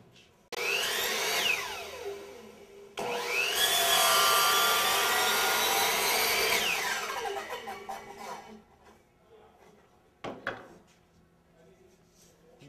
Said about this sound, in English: You're going to miter the other direction.